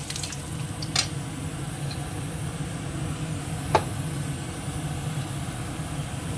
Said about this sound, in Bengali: ফোড়নে দিয়ে দিচ্ছি একটুখানি জিরে, দেবো তেজপাতা